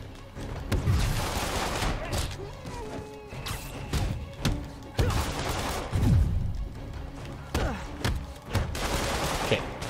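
Web bomb attacks in a Spider-Man video game, landing as repeated loud thumping impacts and bursts amid continuous combat noise and clatter.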